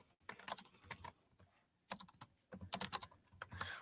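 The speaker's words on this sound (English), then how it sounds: "You can personally type your own definition." Computer keyboard typing while entering a definition into a flashcard program: bursts of quick, close clicking keystrokes separated by a short pause, with no voices.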